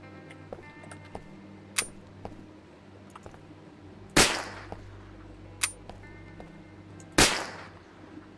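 Gunshots ring out in The Dead Linger video game: two loud, sharp cracks several seconds apart, each with a short decaying tail, mixed with lighter scattered clicks and small pops over a low steady hum.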